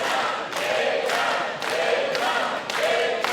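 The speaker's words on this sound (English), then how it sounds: "Crowd cheering on big time." Spectators at an IWC Wrestling heavyweight championship match cheer loudly in the arena. Broad crowd roar swells in repeated waves of shouting and noise, filling the space throughout.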